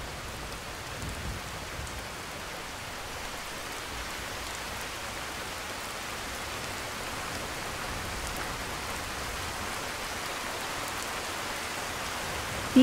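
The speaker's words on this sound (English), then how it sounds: "And now it's raining." Steady rain pours down in the video game Skyrim, a constant even hiss of dense drops with no pauses, filling the scene from start to end without any voices.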